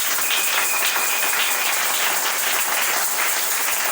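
A church congregation applauding loudly and continuously, dense clapping that fills the whole stretch without pause.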